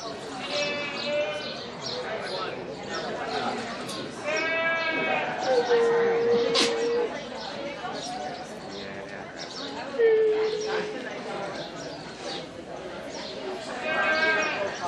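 Goats bleating repeatedly at a Memorial Day goat show in Pinal County, Arizona, several calls rising over steady crowd chatter and a judge's talk, some close and loud, others farther back.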